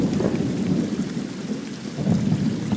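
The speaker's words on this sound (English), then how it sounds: "Hello, thunder, my old friend." Low, rolling thunder rumbles through a heavy rainstorm, with steady loud rain hiss underneath and swells of deeper rumble near the start and again toward the end.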